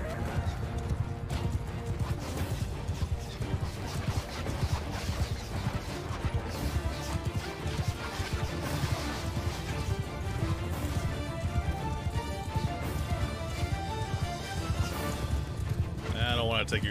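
Horse hooves clip-clop rapidly in a video game, a galloping rhythm mixed with game music and clatter throughout.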